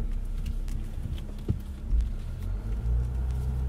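A 2020 Ram 1500 EcoDiesel Laramie Longhorn pickup driving on bumpy roads, heard from inside the cab as a steady low engine and road rumble with occasional thumps from the surface.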